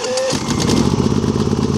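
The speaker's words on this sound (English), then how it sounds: "We're going to hold the on button on until it starts." A Predator 9500 super quiet inverter generator starts up. A brief cranking whine gives way to a loud, close, steady engine clatter and idle.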